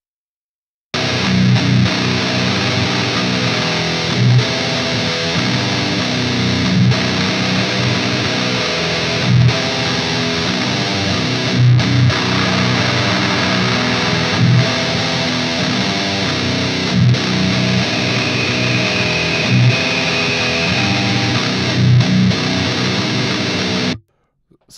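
Heavily distorted metal electric guitar plays continuously and loudly, with a thin, whistle-like tone from an EQ band boosted at 2500 hertz emerging briefly near the end.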